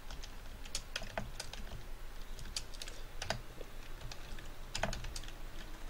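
Computer keyboard typing at a steady pace, a run of close, crisp key clicks with a few louder strokes and no talk.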